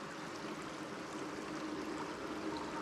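Water sloshing and trickling around a character wading in Pathfinder: Wrath of the Righteous, a steady, moderately faint flowing wash with no voices.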